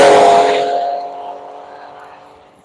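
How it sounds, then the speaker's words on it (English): Race cars on the Road Atlanta circuit during a One Lap of America session, a loud engine roar and tire noise at its peak at the start, then steadily fading as the car pulls away. "I hear cars coming."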